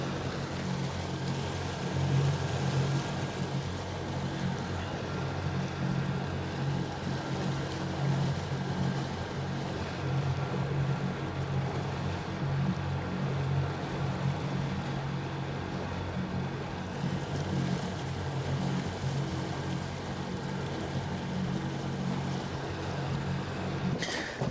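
A fishing boat motors around a lake, its engine a steady low drone that holds evenly throughout with faint wind and water wash, at moderate distance and with no voices.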